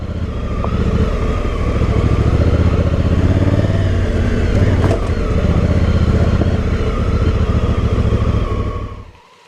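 A Honda Africa Twin motorcycle's engine roars loud and close as its rear wheel spins off-road. It holds a steady high rev for several seconds before cutting away at the end.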